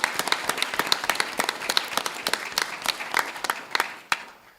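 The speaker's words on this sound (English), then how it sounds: "Let's give Kyle a big round of applause." Audience applause at a school board meeting during a student awards presentation, a modest group clapping in a fairly close, sharp, uneven patter that thins out toward the end.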